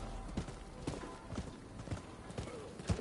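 Horse hooves clip-clopping in a steady rhythm as the mount rides itself on autopilot in a samurai video game, moderately close, with occasional talk over the top.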